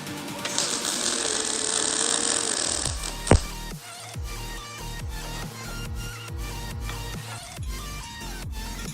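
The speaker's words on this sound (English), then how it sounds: "First weld, not too bad for my first time." Welding on an R32 Skyline exhaust to fit a wideband O2 sensor: a crackling, buzzing burst of a few seconds, then a sharp snap and a run of irregular ticking and clicking.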